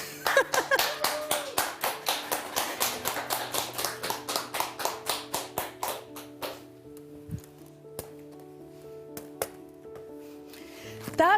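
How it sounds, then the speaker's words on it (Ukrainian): Brisk applause from wedding guests starts loud and fast, then thins out into scattered individual claps over several seconds. "Ну а гості ми аплодуємо."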